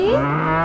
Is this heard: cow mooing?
yes